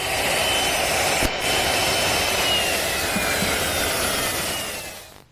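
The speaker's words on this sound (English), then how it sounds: "Now I'll change bits and drill a through hole." A drill bores a through hole for a carriage bolt in a mahogany handle in a woodworking shop: a continuous, loud whirring grind with a high whine, holding steady before tapering off at the end.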